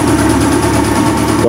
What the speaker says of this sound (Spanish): Entonces vamos a echar a andar la motocicleta.